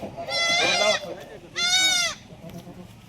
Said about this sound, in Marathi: टॉप क्वालिटी मध्ये शेळ्या दिल्या आकाश दादा